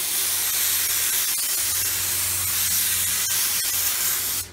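A homemade waste oil burner siphon atomizer nozzle sprays oil in a steady, loud, broadband hiss that holds unbroken for several seconds before cutting off abruptly at the end.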